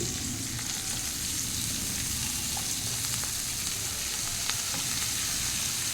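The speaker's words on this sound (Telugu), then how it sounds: "సన్నగా తరిగిన కొత్తిమీర సారీ తోటకూర వేసుకోవాలి" Tender amaranth leaves, added to a pan after curry leaves, fry with a steady, dense sizzle that stays even and close throughout, with no talking.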